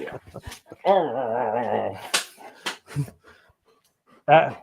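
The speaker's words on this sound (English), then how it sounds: "The dog is getting so excited." An excited dog growls and yips in a long wavering stretch close to the mic, then gives a short sharp bark near the end, with people talking in between.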